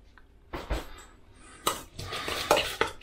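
Chopped tomatoes and garlic with a generous pinch of salt are stirred in a bowl, making a few short, close scraping and clinking bursts with quiet gaps between them.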